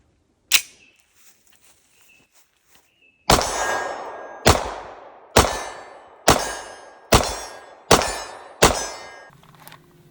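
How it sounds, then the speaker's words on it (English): Beretta 92X Compact pistol fired: one sharp report, a pause of nearly three seconds, then seven loud, evenly spaced shots about two-thirds of a second apart, each ringing briefly. "Shooting the Beretta 92X compact."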